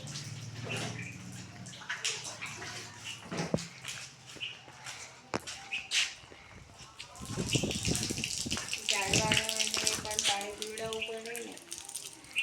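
Water is poured out in the summer heat so sparrows can drink, splashing and trickling into a container with a rising filling tone toward the end, while a voice talks.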